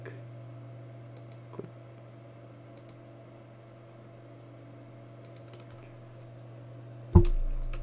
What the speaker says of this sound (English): I'm going to draw holding the control key and left mouse clicking.